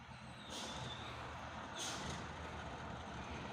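A large Fuso truck's low engine rumble with two sharp hissing bursts of air as it rolls back downhill after failing to climb, steady and moderately distant.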